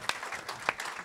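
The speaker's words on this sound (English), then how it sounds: "give him another round of applause," Brief applause from a conference audience, a short burst of scattered claps with a few louder individual claps standing out.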